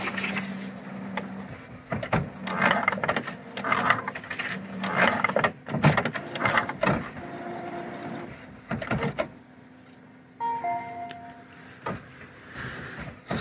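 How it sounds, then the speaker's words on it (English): An HP OfficeJet Pro 8610 inkjet printer prints a calibration page after an ink system failure reset, giving uneven mechanical whirring, clicking and carriage shuttling at close range, with a short electronic tone near the end. "So right now it looks like it's doing the calibration fine. It's printing."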